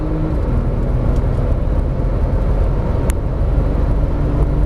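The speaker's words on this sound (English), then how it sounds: "More throttle, more throttle, more throttle. Keep going, keep going, keep going. Full throttle now." A Porsche Turbo S is driven at full throttle on a race track, a loud, dense, continuous engine roar heard from inside the car, steady and unbroken, with one sharp click partway through.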